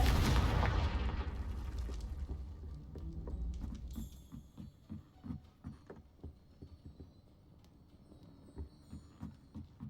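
Fire-spell explosion (Confringo) in a Hogwarts video game, a deep booming blast that rumbles and fades over several seconds, followed by a run of soft rhythmic thuds.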